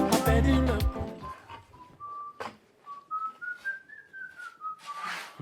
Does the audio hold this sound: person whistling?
yes